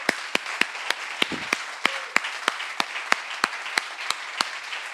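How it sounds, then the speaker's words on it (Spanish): Steady, evenly spaced claps ring out at a brisk rhythm in a reverberant church, with a soft background murmur beneath them. "Démosle un aplauso al Señor"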